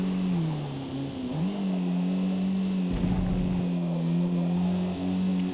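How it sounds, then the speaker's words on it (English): Car engine in Forza Motorsport accelerating out of corners, a steady droning tone that dips and climbs again, with a brief rougher burst midway, loud and continuous with no talk. "the car is accelerating quite a bit better out of the turns"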